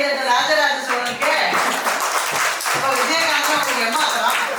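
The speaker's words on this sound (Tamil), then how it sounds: "இவ்வளவுதான கைதட்ட ராஜராஜ சோழனுக்கு." An audience claps steadily at a tribute gathering, a dense, continuous wash of hand claps that stays fairly even throughout, with a voice or two faintly mixed in.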